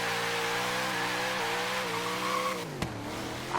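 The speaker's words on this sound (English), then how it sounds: "Locking up those front wheels just a touch." Tires squealing as the front wheels lock up on a classic Dodge Challenger drag build in Forza Horizon 3, a steady loud engine drone with shifting pitch under a continuous screech, briefly cut by a sharp jolt near the end.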